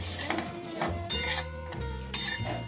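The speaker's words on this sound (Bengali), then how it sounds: "এবারে নাড়াচাড়া করে নারকেলের পুরটা তৈরি করে নেব" Coconut filling with date-palm jaggery (patali) stirred in a pan for steamed vapa pitha, with a spoon scraping and clinking against the metal in a few loud bursts between quieter stirring.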